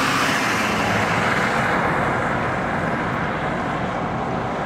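Trucks driving past on a dusty road near Dragon Cement produce a constant, loud broadband roar of engines and rolling tyres with wind-like rush, close by and without any talking.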